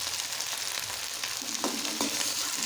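Bhendi (okra) curry fries in a pan in village-style cooking, a steady sizzle under a couple of scraping strokes as a spoon stirs the mix, close and moderately quiet.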